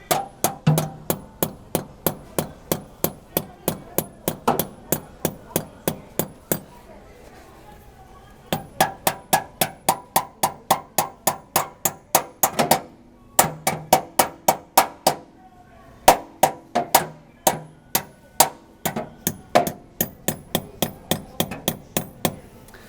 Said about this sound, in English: You want to bang these down in. Don't bang them too hard.